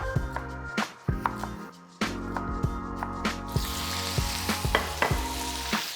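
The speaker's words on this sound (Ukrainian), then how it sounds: "Поливаємо олію. Будемо на ній смажити м'ясо." Meat sizzles and crackles in hot oil, with scraping and clinking of a utensil stirring in the pan, loud and close.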